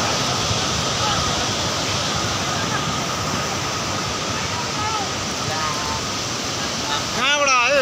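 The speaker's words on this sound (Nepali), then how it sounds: "खोलाको बाडी" Flood water from a river surges past in Phakphok, Ilam, with a loud, constant broadband roar and no let-up. A brief voice breaks in near the end.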